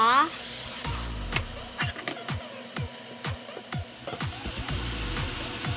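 Pork on the bone stir-frying in vegetable oil in a pan, with steady sizzling and repeated scraping, knocking strokes of a utensil against the pan at a regular pace, close and moderately loud.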